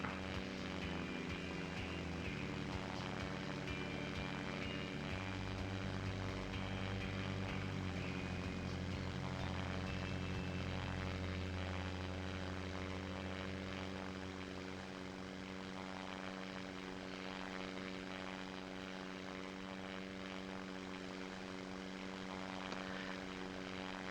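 Propeller aircraft droning steadily in the SimplePlanes VR flight game, a default basic plane flying near an aircraft carrier; a loud, continuous engine hum with shifting pitch and no talk.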